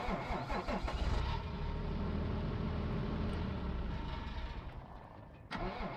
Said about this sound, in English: Very nice engine sound.